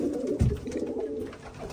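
Male pigeons rearing chicks together in a loft coo in low, soft rolling calls close by, with one fuller coo standing out against quiet background noise.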